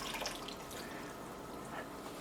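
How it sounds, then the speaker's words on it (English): Homemade garden tomato juice pours into a cooking pot for chili, a continuous soft liquid stream with light splashing, steady and fairly quiet with no voices. "I add 1 pint of homemade tomato juice straight out of the garden to each"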